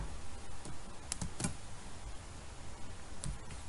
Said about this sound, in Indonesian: kemudian kita ketikkan node hello.js, enter